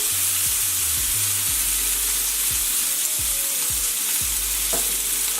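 A stuffed pork chop sears in a hot pan with a steady, loud sizzle, broken by a few low thuds and scrapes as the chop is flipped and turned, with no voices present.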